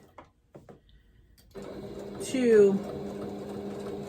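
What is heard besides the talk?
sewing machine stitching applique on fabric Easter basket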